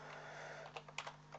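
Fingers tap on a computer keyboard while data is entered into a Microsoft Word mail merge, a few soft, quick, close keystrokes over a steady low hum.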